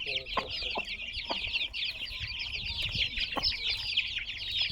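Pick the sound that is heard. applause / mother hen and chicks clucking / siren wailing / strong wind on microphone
mother hen and chicks clucking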